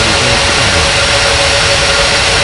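Airliner jet engines roaring at takeoff thrust, a loud, steady broadband rumble with a faint whine, continuous and close.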